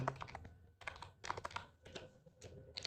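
Quick, irregular keystrokes on a computer keyboard tap out a captcha code in short bursts and pauses, close and quiet, with no talking.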